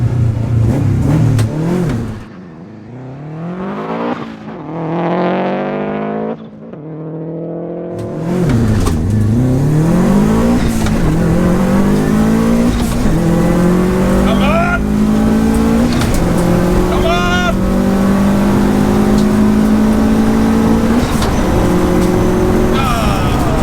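A 465 bhp Subaru Impreza WRX STI launches for a quarter mile run, the engine revving hard and climbing through several gear changes, loud and close, with a brief dip before a long sustained pull.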